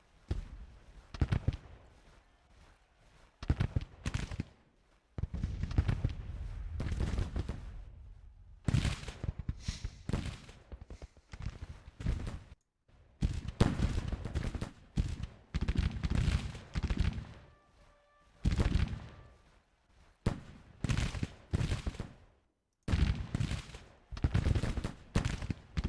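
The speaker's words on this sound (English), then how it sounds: "Stephen Lee's brigade is just standing there continuing to shoot it out." Civil War musket volleys in a strategy game battle at Champion Hill, with dense rolling crackles of rifle fire in repeated bursts, some close and loud, others distant, filling the whole stretch with brief pauses between.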